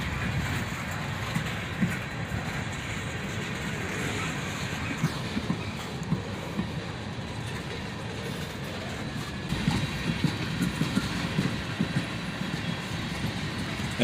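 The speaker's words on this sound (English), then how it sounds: "And there was a big cut of tankers on the rear of the train that took about 4 minutes to go by." A long CSX freight train rolls steadily past at close range, its wheels rumbling and clacking under a string of tank cars, with no voices.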